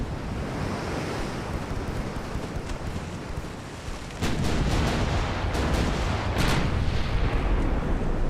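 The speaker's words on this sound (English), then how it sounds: "I love the rattle of all those secondaries firing off" Warship secondary guns firing in the naval game Ultimate Admiral: Dreadnoughts, a rattle of repeated booming shots over a constant roar of wind and sea, getting louder and busier midway.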